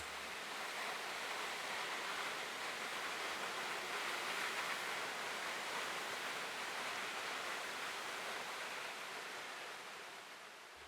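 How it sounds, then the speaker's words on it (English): A fast-moving mountain stream rushes without a break, a broad, even hiss of water that stays strong throughout and fades slightly at the close, with no voices. "Wooden bridges cross fast-moving streams, their waters rushing down from unseen heights."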